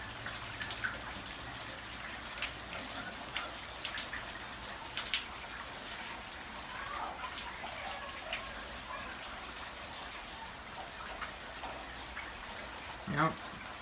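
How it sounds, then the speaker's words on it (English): A hail storm, with a continuous fine patter of falling hail and scattered sharp impacts, steady and moderately loud while a person talks. "burst of hail."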